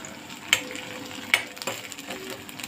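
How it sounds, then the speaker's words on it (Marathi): Ginger garlic paste frying in a pan while being stirred, a low steady sizzle broken by two sharp metallic clinks of the spoon and lighter scraping taps, close, with no talk. "आलं लसूण चांगलं परतलेलं आहे."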